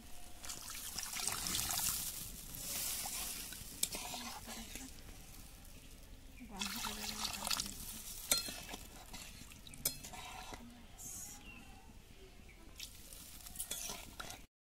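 Water poured into a cooking pan in a home kitchen, with trickling and gurgling, scraping stirs and sizzling over several seconds, fairly faint and close.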